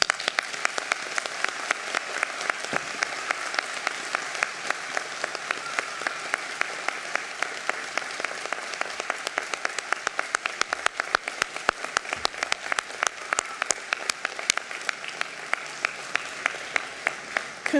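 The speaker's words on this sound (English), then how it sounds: "Now let us give our graduates a warm round of applause." An audience at a university graduation ceremony for the Faculty of Sciences, Medicine and Health claps for the graduates, a sustained, dense round of applause from many hands, steady and fairly distant, continuing throughout.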